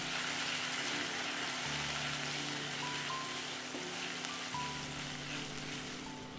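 Govinda Bhog rice frying in a pan, a steady, rain-like crackling sizzle that fills the whole stretch, with a faint low hum running underneath.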